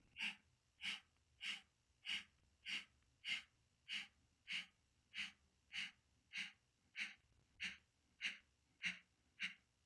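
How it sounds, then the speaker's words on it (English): Rhythmic segmented nasal breathing in a meditation practice: a long steady run of evenly spaced short sniffing breaths, close and fairly loud, repeating at a regular pulse with no talking. "16 inhales and then exhaling."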